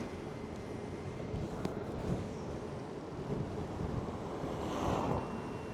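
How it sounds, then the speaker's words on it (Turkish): Steady low wind rumble buffets the microphone in a forest while riding a scooter, a constant roaring blast with gusts swelling near the end, no voices. "Mikrofona nasıl geliyor bilmiyorum ama harbi rüzgar var."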